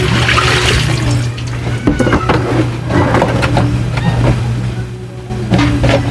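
Water is poured and splashes loudly during hand laundry, rushing and gurgling up close with clattering knocks of basins or items in between.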